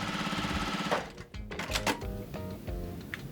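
A sewing machine stitches quilt blocks in short, rapid rhythmic bursts with a brief pause partway through, the needle's mechanical chatter close and moderately loud.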